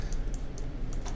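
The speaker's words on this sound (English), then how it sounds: "hit the letter C on your keyboard" Keys on a computer keyboard click sharply, a handful of distinct taps spaced irregularly over a low background hum, close and fairly clear with no voices.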